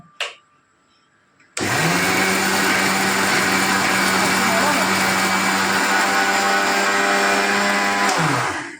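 A kitchen mixer grinder grinds idli batter, starting abruptly after a brief quiet moment with a short voice, then running as a loud, steady, high-pitched whine and churn for several seconds before winding down at the end.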